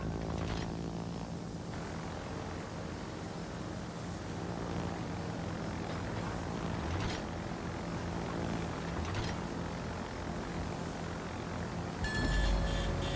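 Propeller warplanes drone steadily through a World of Warships naval battle, a continuous engine hum holding for over twelve seconds before a louder burst near the end, with no talking.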